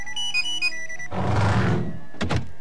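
A telephone bell rings in the video game Simon the Sorcerer 3D, a short tonal ring, then a dull thunk and a couple of quick clicks, close and clear.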